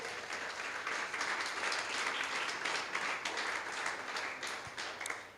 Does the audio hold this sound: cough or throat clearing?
no